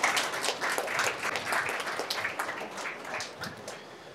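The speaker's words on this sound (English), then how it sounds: "applause to you guys." Applause from an audience at the close of a kids' coding event, a soft, fairly distant patter of clapping that holds steadily for a few seconds before thinning slightly.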